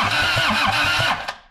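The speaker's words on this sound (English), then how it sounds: "let's get into the Kubota motor and get it running" A Kubota engine cranks with a quick run of rhythmic starter chugs, roughly eight even pulses, then stops. Loud and close, no voices.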